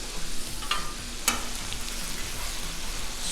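Oil sizzles and fries steadily on a hot Blackstone griddle cooking diamond-cut hot dogs, a close, even crackle with a couple of brief metallic scrapes.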